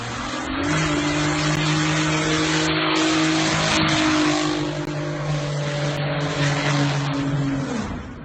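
A BMW N54-powered car, running about 15 psi of boost at the rev limiter, does a power skid after the trans brake is released. A loud sustained engine drone and high-pitched howl ride over harsh tire squeal and rough hiss for about eight seconds.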